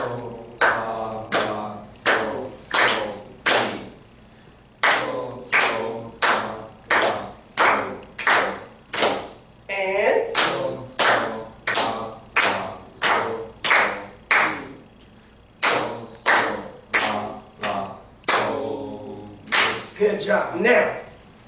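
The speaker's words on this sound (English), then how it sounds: "Let's clap it one more time before we put all our stuff back together." A class of students claps a rhythm together in a music lesson, crisp group claps in repeating patterned phrases with short pauses, while a few voices join in between.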